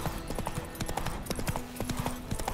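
Geralt's horse Roach galloping in The Witcher 3, with fast rhythmic hoof clip-clops at close range and a faint background voice.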